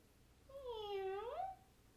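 A cat gives a single drawn-out meow with a rising then falling pitch, close and clear against a quiet background.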